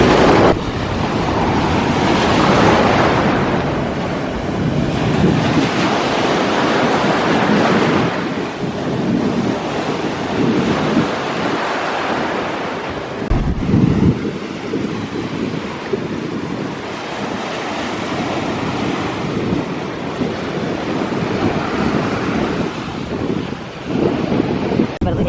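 Rough ocean surf off Florida crashes and rushes in heavy, continuous waves, loud and close, with strong wind buffeting the microphone throughout.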